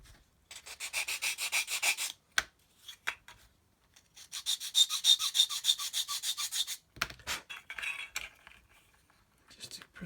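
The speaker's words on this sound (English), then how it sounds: "light sanding on the top" Short bursts of quick, rhythmic rubbing strokes of light sanding on the top of a HobbyBoss 1/25 Land Rover SWB model part, with brief pauses and soft handling noises between them.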